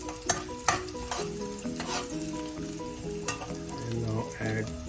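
Food sautéing in a pan while preparing misal pav, with steady stirring scrapes and soft sizzling plus a few sharp utensil clinks against the pan, fairly close and with no talk.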